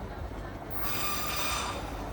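A small electric hill train with AC coaches runs through the countryside at night, a low rolling rumble that swells into a brighter, louder rush of wheels and carriages partway through.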